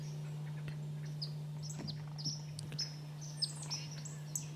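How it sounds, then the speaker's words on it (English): Uncommon bird's call played back from a bird app recording, with thin scattered chirps and short tweets over a steady low electrical hum. "This is an uncommon bird."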